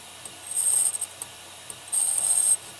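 The edge of a serrated knife blade is touched up to remove burrs, making two short bursts of fine high scraping, close and fairly quiet, separated by a few faint ticks.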